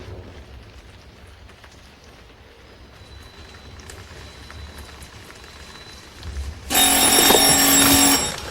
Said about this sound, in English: The phone. It rang once, then it quit.